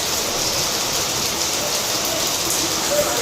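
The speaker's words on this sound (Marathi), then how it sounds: "पाऊस चालू आहे" Rain falling outdoors makes a steady, fairly loud broadband hiss of drops on surfaces, continuous with no breaks, and no talk is heard.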